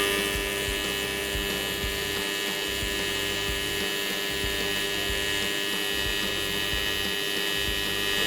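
Steady buzzing hum of a Miller TIG welder arc held under a wireless foot pedal, continuous and even in loudness throughout, close by with no talking.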